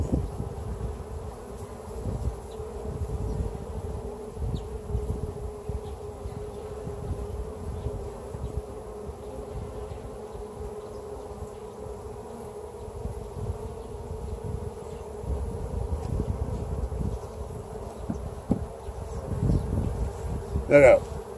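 Honeybees buzzing steadily around an open hive during a weekly summer inspection, a continuous close hum with rustling handling noise underneath and brief louder moments near the end.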